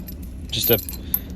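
Metal safety chains on a Yamaha 242SE jet boat trailer rattle in one brief, close jangling burst, with a faint clink just after.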